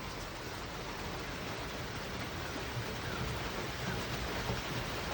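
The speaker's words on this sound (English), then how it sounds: "That's a lot of rain." A heavy rain storm pours down in a dense, steady broadband hiss that stays even and constant throughout, with no voices.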